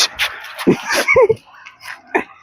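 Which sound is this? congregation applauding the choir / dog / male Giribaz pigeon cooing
dog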